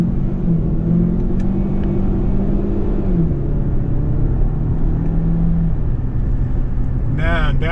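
A Lincoln Corsair in manual sport mode pulls away hard, its engine note rising as it accelerates, with steady road rumble underneath and a brief whine near the end.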